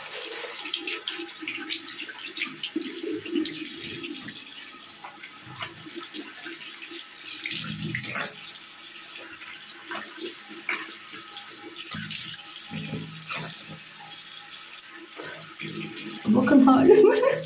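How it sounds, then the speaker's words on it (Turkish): Water runs from a tap and splashes intermittently while someone washes their face, soft and close, with a louder gush near the end and occasional speech in between. "Yüzümü yıkayayım."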